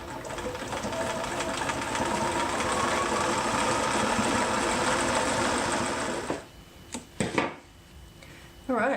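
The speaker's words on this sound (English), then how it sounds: "put it under the machine. The second row of stitching" A sewing machine runs steadily while stitching the second row on knickers, a loud continuous whirring drone for about six seconds, then it stops and a few short clicks and knocks follow.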